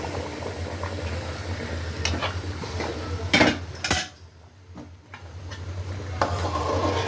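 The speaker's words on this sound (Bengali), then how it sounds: "আমি পোলাও চালটা ভাজা শেষ, দিয়ে দিতেছি গরম পানি।" Hot water is poured onto fried polao rice in a cooking pot, giving a loud hissing, bubbling rush with metallic clinks of the pot and utensils.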